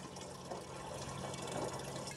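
Water running from a pressure tank into a bottle, a faint, steady splashing trickle with a soft filling hiss, continuous and close, with no voices.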